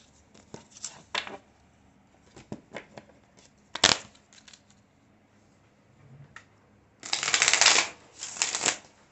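Tarot cards being shuffled by hand, with scattered soft riffles and taps and then two longer, louder riffling bursts near the end, close and with no talking.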